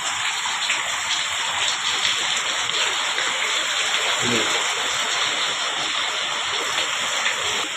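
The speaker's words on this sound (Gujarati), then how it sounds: "વરસાદ હજુ ચાલુ છે" Heavy rain falls in a village setting as a dense, steady, even hiss that fills the whole stretch. The sound is loud and close, without a break.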